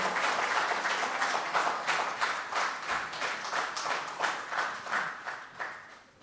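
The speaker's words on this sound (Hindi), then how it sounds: "दोस्तों, तालियों से स्वागत करेंगे बाल मोहन भाई का।" Audience applause at a Hindi poetry recital, a dense, steady wash of many hands clapping that carries through the whole stretch at close range with no voices over it.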